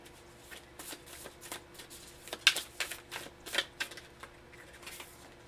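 Affirmation cards are shuffled and drawn by hand, a run of quick papery riffles and slaps with a few sharper snaps in the middle, close and moderately loud with no talking.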